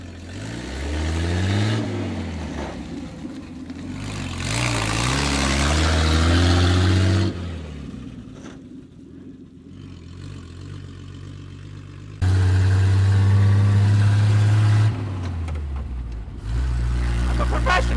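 A 1947 Dodge truck pulled out of abandonment, its engine droning and revving as it drives, with the pitch rising and falling through gear changes and a few loud surges, while voices talk over it now and then.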